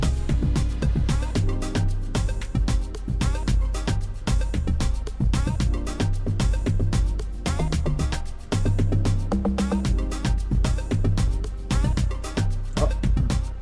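Full amapiano remix beat with dense layered synths, deep bass and a driving percussive groove, loud and continuous with no break.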